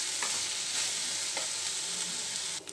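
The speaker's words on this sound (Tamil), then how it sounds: "இப்போ சாதம் போட்டு கிளறிக்கலாம்." Carrot rice being stirred in an oiled pan, a steady bright sizzle with a few soft scraping strokes of the spoon, close and fairly loud throughout.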